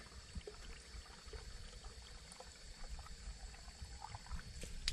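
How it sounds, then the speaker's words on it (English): Hot water is poured steadily into a container for about five seconds, a continuous soft splashing rush with small gurgles, no voices. "I'm putting hot water in here to dissolve it quicker."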